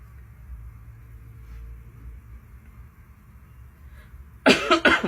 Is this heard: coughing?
yes